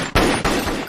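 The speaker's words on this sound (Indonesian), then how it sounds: "Bob menjadi marah dan langsung menembak Cyrus." A gunshot rings out in a film scene as Bob fires on Cyrus: a sharp loud crack at the start, a second blast moments later, and a rumbling tail between and after.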